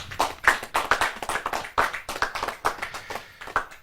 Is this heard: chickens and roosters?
no